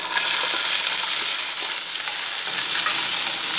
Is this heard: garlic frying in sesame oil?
yes